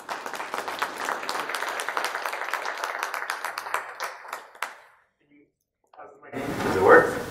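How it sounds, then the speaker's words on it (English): Audience applause at the Digital Growth Summit, a dense, steady clapping from a crowd lasting about four and a half seconds before cutting off, followed by a brief silence and then close rustling noise. "So let's give a round of applause here for Rob Meadows."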